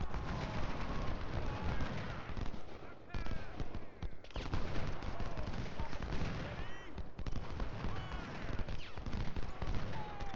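Massed musket and rifle volleys from a Chancellorsville battle in the Civil War strategy game Ultimate General: Civil War crackle continuously in dense overlapping rolls. A few short lulls break the steady, loud battle din.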